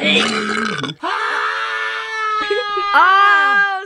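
Long, loud, drawn-out burp after drinking soda, with a stretched, tonal, almost vocal quality, broken by a short gap and then rising again in a wavering, bleating finish.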